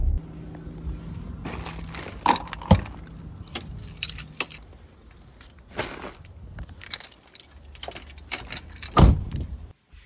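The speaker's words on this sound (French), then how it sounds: "Et je prends la voiture pour une fois." Keys jangle in short bursts as someone gets into a car, with a door clunking and brief rustling and footsteps, close and fairly loud against a quiet outdoor background.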